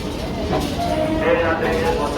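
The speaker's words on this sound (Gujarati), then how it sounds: "બસ ટ્રેન આવી ગઈ હવે" A train arriving at a station rumbles nearby, a low steady roar with faint clattering, while voices talk over it.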